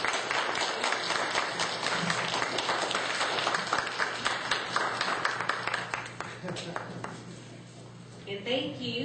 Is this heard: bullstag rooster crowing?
no